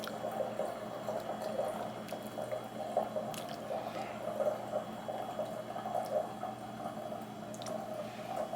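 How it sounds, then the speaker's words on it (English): Broth pours into a bowl of gluten-free vegan ramen, a steady close liquid gurgle and drip running the whole time with no talk. "So now we're just going to add broth."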